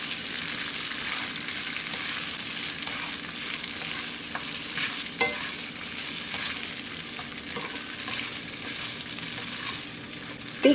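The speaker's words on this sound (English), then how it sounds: "Be careful when you're stirring." Tofu strips coated in oil frying in a pan, a continuous bright sizzle with occasional light stirring scrapes and taps, close up and steady throughout.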